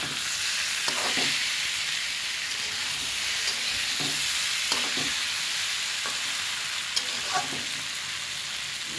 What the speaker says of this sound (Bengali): সেই জন্য তাড়াতাড়ি হওয়ার জন্য ভেজে নিচ্ছি।